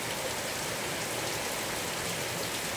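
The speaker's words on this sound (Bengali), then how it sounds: "প্রচণ্ড বৃষ্টি পড়ছে" Heavy rain pours down outside an open window in West Bengal, a dense, even hiss of steady rainfall with no other sounds.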